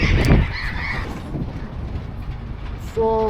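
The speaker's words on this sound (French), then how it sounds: "Là, tout ça, c'est des perroquets." Parrots squawk in a few harsh bursts near the start, set against a steady windy, rumbling background along a sandy desert stretch of Argentina's Route 40, with a brief tonal call near the end.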